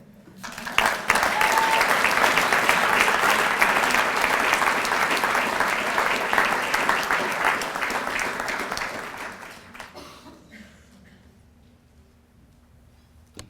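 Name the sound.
audience applause at an awards banquet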